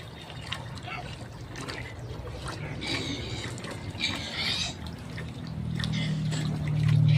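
Water trickles and pours steadily while fetching water from a community supply in the afternoon, a continuous splashing flow rising toward the end.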